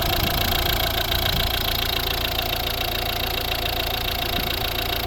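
A 2011 Volvo V60 1.6 D2 turbodiesel, four cylinders with two valves each and piezo injectors, idles steadily at close range, a continuous even rumble with light mechanical clatter and no voices.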